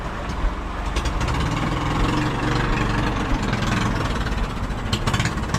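An engine idles close by with an uneven, knocking rumble from misfiring, running continuously with irregular louder thumps.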